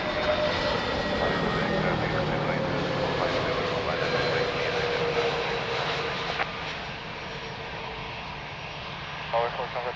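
A jet aircraft engine roars loudly and steadily at Lisbon Airport, a broad continuous rumble and whine that slowly eases near the end, with faint radio talk in the background.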